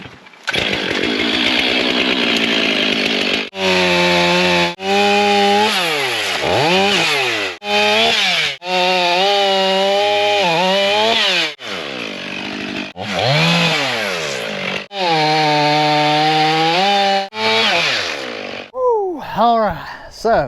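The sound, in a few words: sawing up logs and stumps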